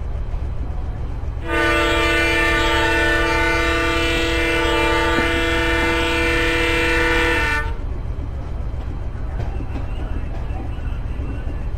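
A loud, sustained multi-tone horn sounds from an ICF train in Microsoft Train Simulator, blaring steadily for about six seconds before cutting off, with rail running noise continuing quietly underneath.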